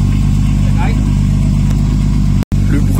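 A turbocharged BMW E36 engine idles cold with a loud, steady low rumble, briefly cutting out for an instant before resuming.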